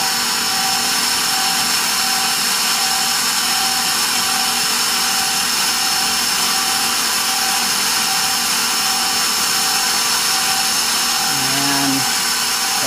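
Electric mixer beating eggs into pecan pie bar filling, a steady continuous whir running loud and unbroken throughout, with a brief change in pitch near the end.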